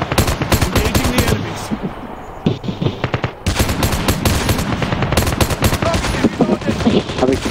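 Rapid bursts of automatic gunfire from Call of Duty Mobile, loud and close, with short pauses between strings of shots and game sounds underneath.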